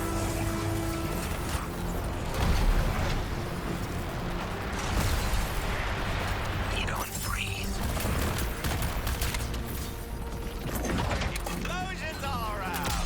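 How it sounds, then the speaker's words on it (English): Explosions and crashing bursts go off repeatedly in Suicide Squad: Kill the Justice League during a boss battle with Brainiac, loud and dense, with a character's voice speaking briefly over the chaos. "Explosions all around."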